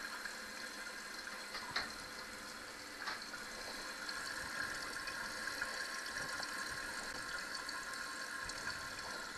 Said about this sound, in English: Yeah, it's filling up, as you can see here. The water is rising.